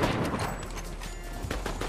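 Rapid video game gunfire, a dense burst of sharp repeated shots rattling continuously and loud for the whole couple of seconds.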